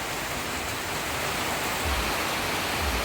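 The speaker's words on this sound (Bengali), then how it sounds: "বৃষ্টি হচ্ছে" Steady, dense rain hisses evenly throughout, close and fairly loud, with no voices over it.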